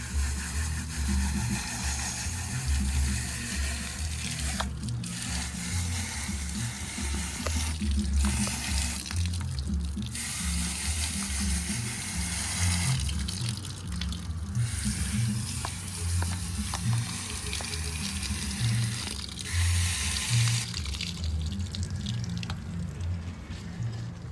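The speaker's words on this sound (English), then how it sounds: "now we're just gonna wash it, rinse it up" Continuous running water from a hose or tap splashes steadily over a part from a Kawasaki KLX 110 dirt bike as it is washed and rinsed, the spray loud and close with a few brief pauses in the flow.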